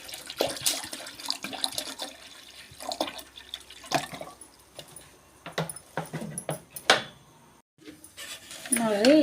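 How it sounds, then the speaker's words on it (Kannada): Ice water poured into a sugared pineapple drink, with splashing and trickling liquid, clinks against a container and a few drips, broken by brief pauses; a voice is heard briefly near the end. "ಐಸ್ ವಾಟರ್ ಹಾಕ್ಕೊಳ್ತಾ ಇದ್ದೀನಿ"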